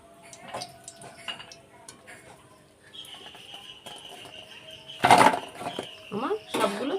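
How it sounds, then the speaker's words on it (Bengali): A slotted metal spoon lifting fried khasta goja out of hot oil in a home kitchen, with sparse metallic clinks and taps that grow into louder scraping knocks against the pan. "একটা ছান্তার সাহায্যে তুলে নেব।"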